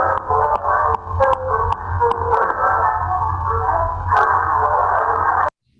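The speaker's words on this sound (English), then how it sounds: "but that actually is Brahms playing the piano." A very old, poor-quality recording of Johannes Brahms at the piano, with muffled, thin, narrow-band tones under heavy crackle and hiss that cut off abruptly near the end.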